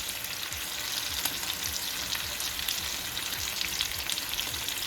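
Brown sugar bacon sizzles and fries in a pan, a steady close crackle with soft popping throughout, no voices.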